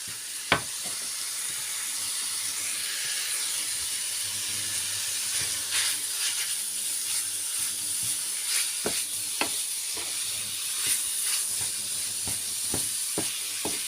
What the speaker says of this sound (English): I'm just going to be continuously mixing all the ingredients together with the grounded meat